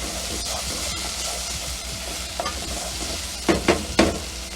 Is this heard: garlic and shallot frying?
yes